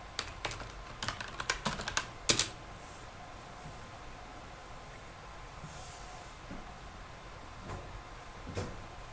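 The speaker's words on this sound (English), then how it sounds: "I'm going to type in sudo su to enter, go into root and do a reboot" Quick bursts of typing on a computer keyboard, a rapid cluster of clicks at the start, then a few scattered keystrokes over a quiet room hum.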